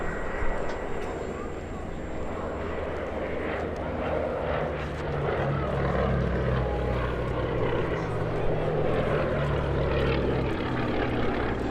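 Westland Lysander aircraft with Bristol Mercury radial engines fly past at the Duxford air show, giving a steady, loud propeller and engine drone that swells as they pass while a commentator talks over it.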